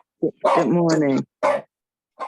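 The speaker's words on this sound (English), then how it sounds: "Pardon my dog's barking." A pet dog barks and yips indoors in a few short, sharp, high outbursts, one drawn into a longer whining bark, close by, while a person briefly speaks a greeting.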